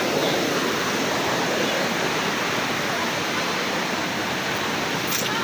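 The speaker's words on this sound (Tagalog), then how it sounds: "lumalabas yung tubig sa puno" Hot spring water gushes out at a tree near Kalabato in Leyte, a steady, loud, rushing flow that holds an even roar throughout with no break.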